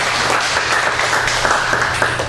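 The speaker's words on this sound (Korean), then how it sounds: "박수 칠까요?" A church congregation breaks into loud, dense applause, many hands clapping steadily and close for a couple of seconds with no voices over it.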